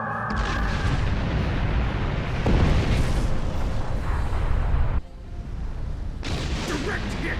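Starship weapon hits in the Star Trek Online space combat game: heavy rumbling explosions and booms roll on continuously, a sharp burst partway through, under a voice speaking.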